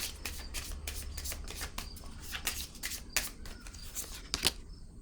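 Tarot cards handled and laid down on a table, a run of soft papery slaps and shuffling flicks close by, with a few sharper taps near the end.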